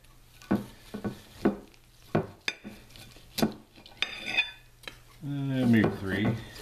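Knife strokes and clatter against a board and dishes while smoked meat fresh from the smoker is sliced for dinner, a series of close, distinct scraping knocks, with a voice joining briefly at the end.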